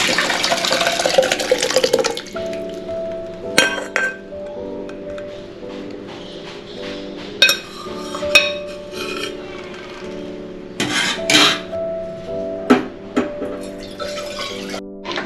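Green pigeon peas and brinjal being emptied into a metal pot, giving a series of scraping, rubbing and wet sliding sounds with occasional clanks, close by and with no voices.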